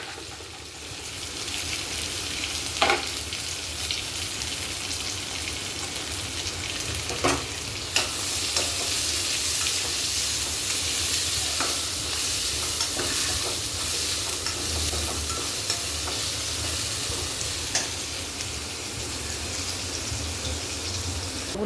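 Chopped onions fry in a pan for prawn poha, a steady close sizzle with occasional sharp clicks of stirring, continuing evenly and fairly quietly without any talk.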